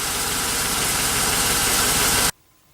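A 2003 Chevrolet Suburban engine runs steadily after a water pump replacement, a loud, close, constant rumble with a faint knocking texture that holds for about two seconds before cutting off abruptly into quiet.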